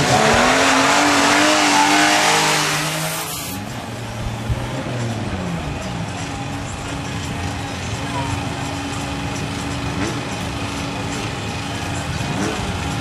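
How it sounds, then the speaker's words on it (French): A BMW six-cylinder group 2 race car at a historic hillclimb, its engine loud and close at first, then receding into a distant revving drone as it climbs away, with an announcer talking over it. "Et vous allez entendre le son mélodieux de son 6 cylindres."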